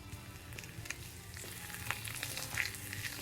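Pure Grace body mousse, a squishy foam lotion, crinkles and crackles softly in close-up, a steady fizzy popping with a few sharper ticks and no talking.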